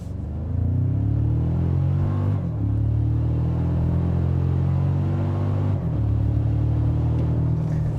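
A 2025 Toyota Tacoma Trailhunter accelerates hard on a timed run, its engine rumbling loudly and climbing in pitch through two clear gear shifts.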